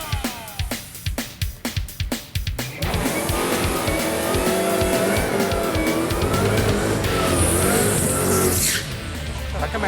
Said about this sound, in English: How come that sounds like it's got a blower on it?